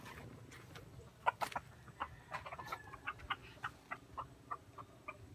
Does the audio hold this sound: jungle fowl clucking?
yes